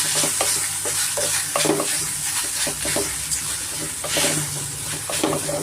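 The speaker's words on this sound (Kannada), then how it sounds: "ಇವಾಗ ಇದಕ್ಕೆ ನಾನು ಮೆತ್ತಿಗೆರ ರೈಸ್ ಸೇರಿಸ್ತಾ ಇದ್ದೀನಿ" Soft cooked rice is stirred into a hot tempering with the stove switched off. Repeated scraping and squishing strokes come at an uneven rhythm over a low, steady background hiss.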